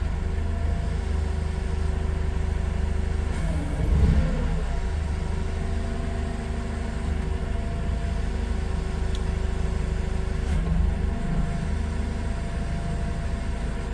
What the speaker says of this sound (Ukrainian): І ось на холостих обертах піднімається каретка.